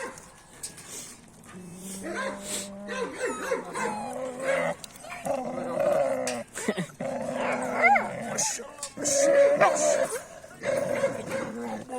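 Several Kangal Anatolian shepherd dogs bark, yip and whimper in rapid overlapping bursts close by, while people talk and laugh among them.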